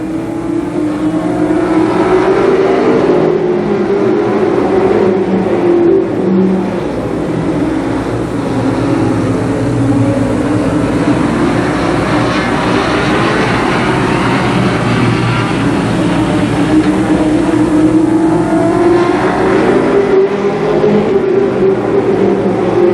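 Limited sportsman race cars roar around a speedway oval during a 30-lap feature, loud engines rising and falling steadily as the pack circles past without a break.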